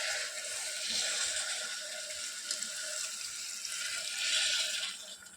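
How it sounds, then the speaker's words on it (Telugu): Water pours steadily into a pan of cabbage tomato curry, making a soft, continuous splashing rush that swells near the end and then tapers off, with no voices. "ఇప్పుడు ఇందులో వాటర్ యాడ్ చేసుకోవాలి"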